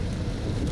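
Steady broadband rain noise pours down continuously, close and fairly loud, with a low rumbling undertone and no voices.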